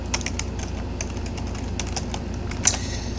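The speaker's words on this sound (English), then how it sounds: "sorry, I was typing" Rapid, even clatter of keys on a computer keyboard, close and steady for a few seconds, with one sharper keystroke near the end.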